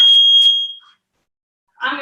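A workout timer gives a sharp, high electronic beep that holds for under a second and then stops. After a short silence, a voice starts speaking.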